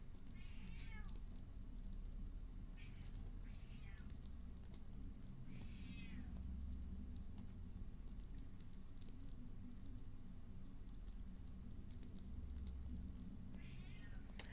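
A house cat meows several times, medium-close, each call short and rising, with steady low room noise and occasional soft pattering between calls.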